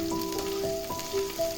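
Green chilies frying in oil with garlic, with asafoetida added soon after, for an okra stir-fry: a steady close sizzle and light crackle, with faint tonal hums running underneath.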